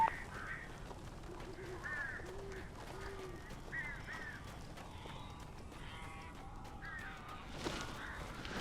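Crows cawing inside the Alan Wake Remastered video game, several rough caws in short bursts spread across a quiet, low ambient background, fairly faint and somewhat distant, with no talking.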